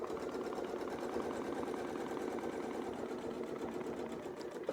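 A sewing machine runs continuously, stitching a quilted wreath design with a steady, even mechanical whir and fast needle rattle, close up and alone without pauses.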